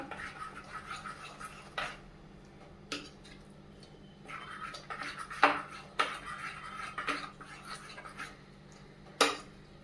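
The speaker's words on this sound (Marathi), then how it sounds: "आता आपण हे चांगलं फेटून घेऊया" Corn panki batter with squeezed lemon being whisked in a bowl, heard as soft scraping and rubbing broken by sharp clinks against the bowl's side at irregular intervals, close and fairly quiet.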